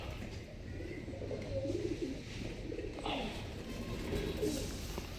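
Pigeons coo softly in a home breeding loft, several low, rolling calls that repeat through the clip against faint background noise, with people speaking quietly nearby.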